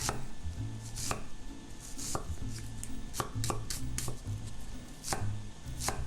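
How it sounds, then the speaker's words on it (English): A knife roughly chopping vegetables on a cutting board, a steady series of close, crisp thuds at an uneven quick pace, with no talking. "And do a rough chop."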